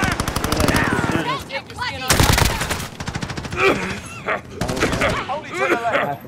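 Rapid bursts of automatic gunfire and scattered shots ring out in the video game Call of Duty: Modern Warfare, loud and close, with players shouting over the fire.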